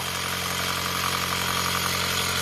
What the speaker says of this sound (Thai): เป็นมอเตอร์สองสูบ